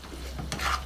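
A brief scrape and clatter of a utensil stirring food in a frying pan over a soft sizzle, close and quick, with no voices.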